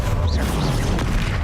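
A Confringo fire-blast spell explodes in Hogwarts Legacy during a fight with a troll, giving a dense, continuous low rumble with scattered crackling bursts that stay loud across the whole moment.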